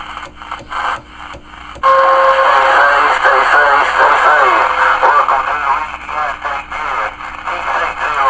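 Harsh, scratchy CB radio reception with static and garbled, crackling voices coming through a noisy channel.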